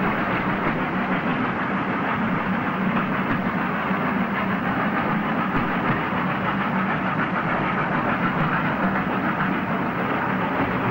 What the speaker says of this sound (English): We depart on this train and traverse a number of tunnels towards Hockley.